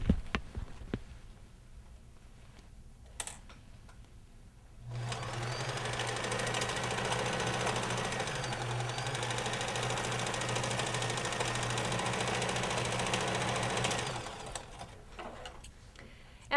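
A sewing machine back-stitches a mitten cuff seam, running steadily for about nine seconds with a close, even mechanical whir and hum, framed by quieter handling noises before and after.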